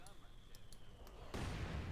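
Heavy mortar fire in Company of Heroes 2, a few faint distant thumps followed by a sudden loud rumbling blast that lingers, with a commentator talking over the battle.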